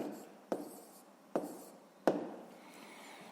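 Handwriting while working through a sixth-grade math problem: a pen or chalk scratching in steady strokes, with three distinct taps or strikes spaced under a second apart, close and fairly quiet.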